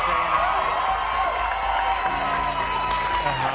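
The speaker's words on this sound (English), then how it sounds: "yeah, you're applauding now" Studio audience at a live televised comedy news segment applauds and cheers in a steady wash of sound while someone talks over it.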